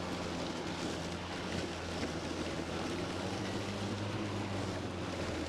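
EGO cordless self-propelled battery lawn mower cutting overgrown grass outdoors, a continuous loud broadband whoosh and motor drone with low hum, steady throughout with wind-like rushing and no talk.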